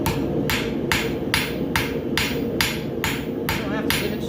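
Hammer strikes a hot forged horseshoe at a farrier's forge, nine evenly spaced sharp metallic blows about half a second apart, loud and close over a steady background hiss.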